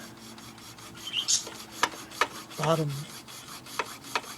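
Hand saw cutting the round wheels off a wooden toy locomotive, a dry rasping rhythm of separate strokes with sharp bright accents, close and moderately loud, with a brief word spoken partway through.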